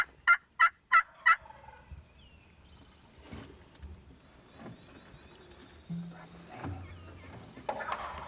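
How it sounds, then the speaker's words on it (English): Four sharp, loud turkey calls in quick rhythm open the clip, answered by wild turkeys gobbling in the distance, with quieter rustling and low murmuring voices. "absolutely gobbling at every note, every single note"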